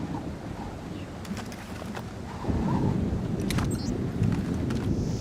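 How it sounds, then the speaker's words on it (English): Thunder from a storm in the video game Splinter Cell Chaos Theory swells into a low, deep rumble midway and rolls on, moderately loud, over a windy, noisy background. "Thunderstorms make me nervous."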